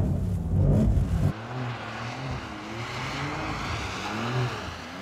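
A 2021 Porsche 911 Carrera drifting on a track: a loud engine holding steady revs with a wavering tone and rising, falling pitch as the throttle is held, after a brief louder burst at the start.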